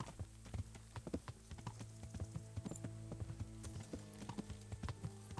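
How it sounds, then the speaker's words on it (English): Horse hooves clip-clop in the Kingdom Come: Deliverance video game, a quick, steady run of sharp close hoofbeats with no talking over them. "get that horse going"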